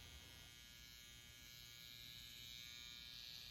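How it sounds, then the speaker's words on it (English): A Babyliss FX Gold electric shaver running, a steady close buzzing hum that stays even throughout with no talking. "Now we're gonna use the shaver."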